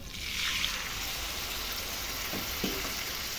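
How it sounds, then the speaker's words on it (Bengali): Spiced taro masala frying in a pan with a splash of water added, giving a steady close sizzle and hiss throughout, with a couple of faint clinks of a spoon near the end. "আমি আরও একটু ভালো করে কষানোর জন্য এর মধ্যে দিয়ে দিচ্ছি অল্প জল"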